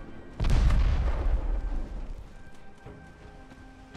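Naval guns fire in a video game, a heavy booming blast hitting suddenly, followed by a long rumbling roll that slowly fades, with faint clanks and tones behind it.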